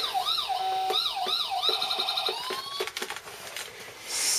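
A police car siren on a Mustang GT wails in rising and falling sweeps, then switches to rapid yelping tones before cutting off, loud and close.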